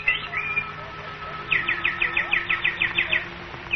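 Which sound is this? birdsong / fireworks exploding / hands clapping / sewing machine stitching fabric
birdsong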